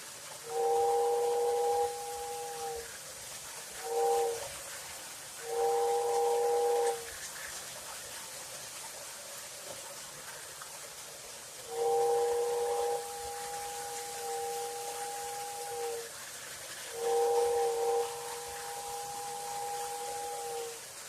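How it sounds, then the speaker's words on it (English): A 1937 Lionel toy train whistle blows in repeated steady two-tone hoots. Some blasts are long and some short, separated by gaps and sounding close, with a constant motor hum running underneath. "And here's the whistle."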